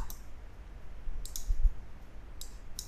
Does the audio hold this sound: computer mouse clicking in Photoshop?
yes